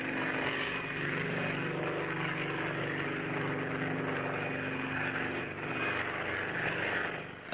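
Westland helicopters fly in a formation display at the 1968 Farnborough air show, a continuous distant rotor and engine drone holding steady throughout.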